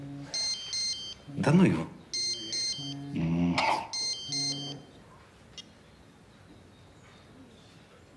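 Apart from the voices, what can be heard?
telephone ringing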